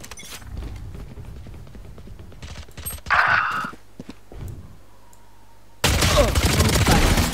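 Gunfire and game effects from the video game Valorant, with rapid shots and bursts broken by a brief bright effect and a sudden loud noisy stretch near the end, close and loud.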